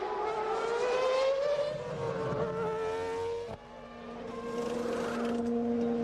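Formula 1 cars from the 2000 season racing for third place, their high engine whine rising and falling steadily as they pass, loud and close with a sharp shift midway and continuous roar throughout.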